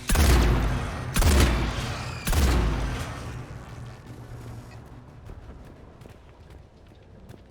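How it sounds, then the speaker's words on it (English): Bursts of gunfire in the video game Mass Effect 3, three heavy booming volleys close together in the first few seconds, then fading to a low, scattered rumble of distant shots and movement. "I hear gunfire."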